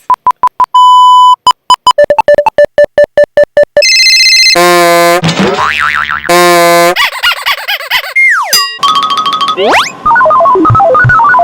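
A rapid series of electronic beeps and bleeps, steady tones, quick pulses, then warbling synthetic chirps and sweeping tones, loud and busy.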